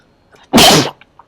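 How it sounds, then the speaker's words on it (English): One loud, abrupt sneeze, close and sharp, with near silence before and after. "Pardon me for a second, I do have to sneeze."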